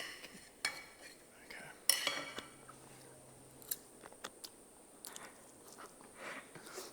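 A knife saws and crunches through a tough, dry, jerky-like steak cooked on a motorbike exhaust in short, scattered bursts, with small clicks and faint rustling between the cuts.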